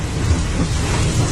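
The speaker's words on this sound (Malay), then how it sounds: "terdengar bunyi dentuman guruh yang begitu kuat." A loud rumble of thunder rolls steadily through a rainstorm, deep and continuous with rain hiss above it.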